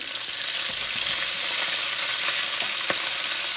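Chicken frying in hot oil in a wok, a loud, steady close sizzle with a few faint clicks of stirring and no voices.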